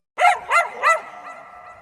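A puppy gives three quick, high yapping barks in a row, close and fairly loud, trailing off into a softer whine.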